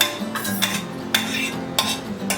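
A spoon stirs rice into boiled milk in a metal pot, making a few metallic scrapes and knocks over a soft bubbling background.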